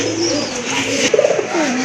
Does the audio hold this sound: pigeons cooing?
yes